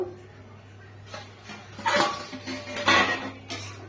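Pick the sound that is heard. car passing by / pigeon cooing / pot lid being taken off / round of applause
pot lid being taken off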